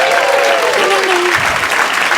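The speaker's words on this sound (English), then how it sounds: "Give her a round of applause." An audience claps and cheers for a comedian's grandmother who just turned 80, with loud, dense applause filling a comedy venue throughout.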